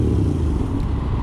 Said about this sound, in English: Again, revving does nothing.